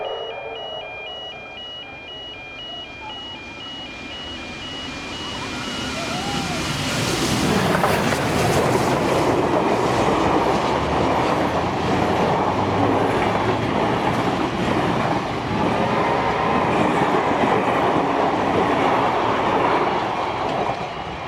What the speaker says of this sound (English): the two locos are now seen on the final leg of the journey to MossVale